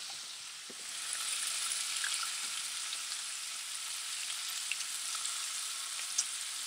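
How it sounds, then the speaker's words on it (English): Bacon frying in a skillet, a steady soft sizzle and crackle with scattered small pops, fairly faint and unaccompanied by voices. "that was bacon grilling on a skillet"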